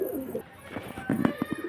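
Soft pigeon coos, a few low throaty bursts close by, with faint background hum and no talking.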